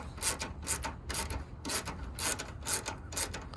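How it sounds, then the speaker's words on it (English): A ratchet or wrench loosening 10mm bolts on the headlight housing of a 2007-2014 Chevy Tahoe, close rhythmic bursts of clicking and scraping repeating about every half second, with no talk. "So we just unloosening up these 10mm bolts from the headlight housing"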